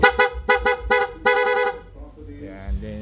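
A loud aftermarket PIA horn on a Yamaha Aerox v2 scooter honks in a quick series of short bursts, then blares once for longer before dropping to quieter background sound.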